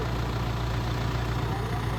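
A tractor engine idles nearby at a village trolley-pulling competition in Punjab, with a steady, low, throbbing rumble that holds constant the whole time.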